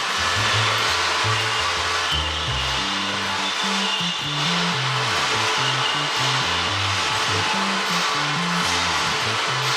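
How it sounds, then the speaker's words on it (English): Electric motors on robotic batonnage tanks holding white wine hum continuously in a winery cellar, giving a steady whirring drone with a shifting, stepped low pitch. "Here, robotic batonnage tanks for the whites. So these motors, they remove yeast and get all over the wine with yeast again."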